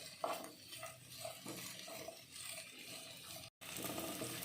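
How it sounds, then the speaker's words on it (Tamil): Garlic and green chillies sautéing in oil in a pan, heard as soft stirring and faint scraping of a utensil against the pan over a low sizzle, with a brief dropout near the end, no talking. "பச்சை மிளகாய் ஆட் பண்ணதுக்கப்புறம் நல்லா வதக்கிக்கலாம்."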